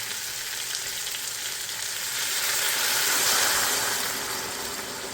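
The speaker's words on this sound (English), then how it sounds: "And I'm gonna add my hot water in here." Hot water poured into a pot of Jamaican-style beef soup with fresh ginger sets off a loud, continuous sizzling hiss that swells briefly midway, with no voices.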